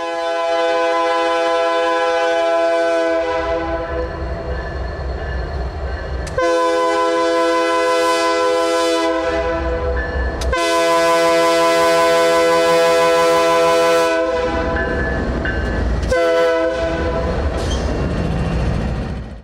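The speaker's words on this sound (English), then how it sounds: "CP 9811 pulls the train out of the complex" A CP freight train led by locomotive 9811 pulls out of a rail complex, sounding long, loud, close horn blasts in several stretches over a deep rolling rumble of the engine and cars.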